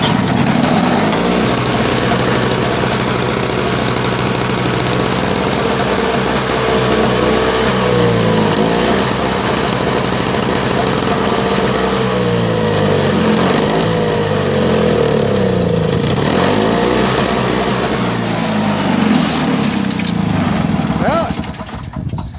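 A John Deere TRS 21 snow blower's small engine, running on old gas after a cold start, drones close and continuously, its pitch wavering up and down, with occasional talk over it.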